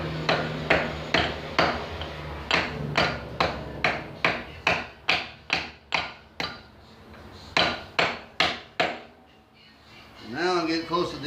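A hammer strikes a part into place during a car brake job: about twenty sharp metallic blows land in a steady rhythm, close and loud, pausing briefly before someone talks at the end.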